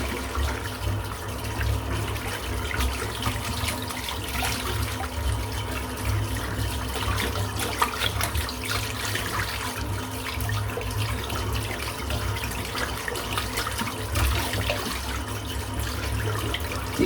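A tap runs steadily into a bathroom sink while a shaving brush with a hand-tied knot is rinsed under it. The water makes a continuous splashing hiss with no talking.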